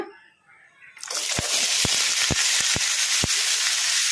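Beetroot with curry leaves frying on high flame, with a loud, steady hiss and sizzle that bursts in suddenly and is broken by several sharp clicks from stirring.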